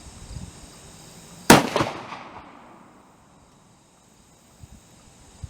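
A single loud, sharp report from a CVA Optima .50 caliber muzzleloader firing a round ball, followed by a decaying echo that fades over about a second into quiet outdoor ambience.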